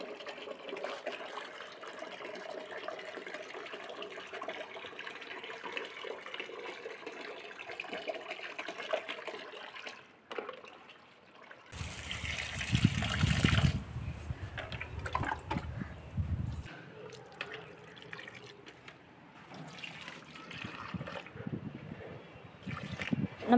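Water poured into an eggshell fertilizer mixture, a loud splashing rush that starts partway through and runs several seconds over a quieter background, with no talking.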